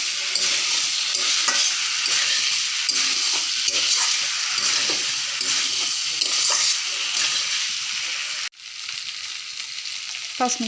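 Potatoes and eggs fry and sizzle in a pan in a village-style kitchen, a continuous hiss broken by repeated stirring scrapes, with a short pause near the end before the sizzle picks up again.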